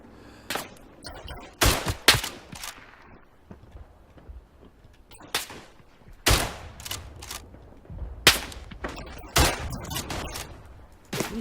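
Gunfire in a World War I shooter game set on the Eastern Front, with loud bursts of rifle and machine-gun shots, some near and sharp, others more distant, spread irregularly over a rumbling battlefield background.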